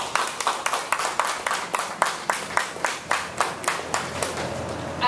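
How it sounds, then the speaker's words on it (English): Audience applause at a bank-supported fire service charity collection event, heard as fairly quiet, evenly spaced rhythmic claps repeating steadily across the whole stretch. "you deserve a round of applause"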